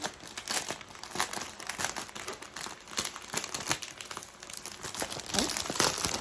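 Plastic packaging around a wig and headbands being torn open and handled, giving a steady run of close, loud crinkling and crackling bursts with no talk.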